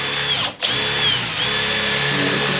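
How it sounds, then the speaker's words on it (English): A power drill boring a hole in a roof to feed wire into conduit, a close continuous whine that briefly dips and then carries on steadily. "Just drilling the hole for the get the wire through into the conduit."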